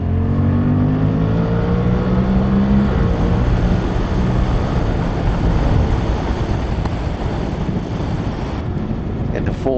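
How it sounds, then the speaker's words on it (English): A Suzuki GSX-8TT motorcycle accelerates, its engine note rising and then holding as a steady loud drone under heavy wind rush, with a voice talking over it. "Oh, it's certainly happy to accelerate."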